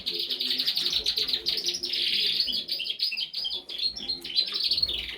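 Several canaries at a breeding aviary sing continuously in bright, trilling warbles and chirps, a busy overlapping chorus at moderate volume.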